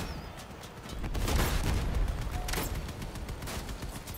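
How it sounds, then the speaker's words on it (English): Heavy weapon fire from an Avalanche cannon in the vehicle combat game Crossout, with a dense roar of gunfire and blasts swelling in the middle and continuing through a loud battle soundscape. "Avalanche cannon."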